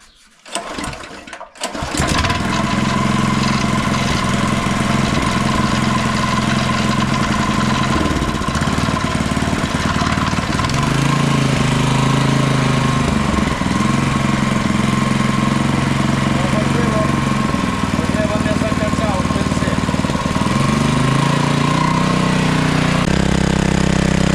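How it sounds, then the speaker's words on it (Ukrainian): A small internal combustion engine, previously used on a generator and now powering a homemade scraper conveyor, starts after a brief cranking and then runs loud and steady close by with a continuous rough drone. "зараз заведемо, побачимо, як він буркає, не буркає, тому що це основа"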